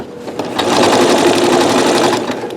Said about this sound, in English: you just have to have the right setup on your sewing machine, and then you can sew